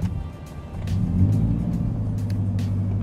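A car engine turns over and settles into a steady low idle rumble, close by, with no talk.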